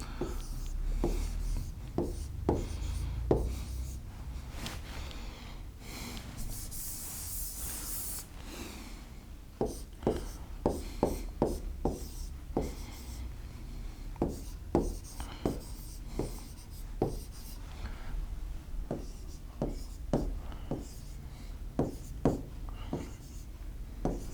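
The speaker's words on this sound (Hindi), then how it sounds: "मैं इतने यहाँ पे क्वेश्चन लिखता हूँ" Marker or chalk writing a question on a classroom board, a long run of scratchy strokes and taps at an uneven rhythm, fairly close, with no talking.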